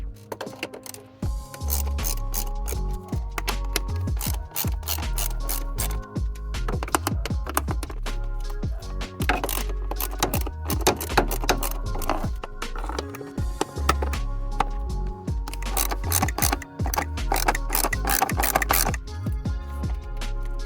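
A wrench with an extension works 8 mm bolts loose on a 2017 Ford Escape during battery removal, giving bursts of rapid ratcheting clicks, close and loud with brief pauses.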